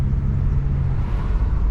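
A truck on a road in Rionegro, Colombia, rumbling past close by with a loud, steady low engine drone and road noise that fills the moment without any voices.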